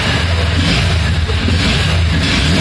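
A Honda Hornet 2.0 motorcycle engine runs with a steady, loud, close rumble and no pauses through the short stretch.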